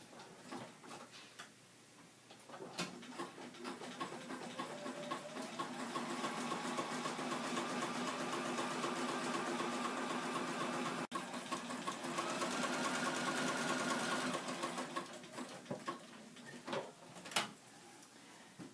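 A sewing machine stitches appliqué leaf and stem units, its steady whirring run of needle strokes carrying on for most of the stretch, with brief stops and starts near the beginning and end.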